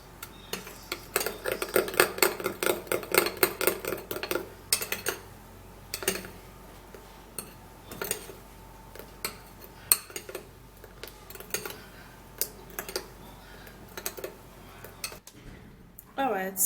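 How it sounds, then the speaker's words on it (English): A spoon stirs a potato skin-care mixture in a bowl, with rapid clinking scrapes that come in a busy burst and then turn into sparser, separate taps. "then would have to give this a good stir"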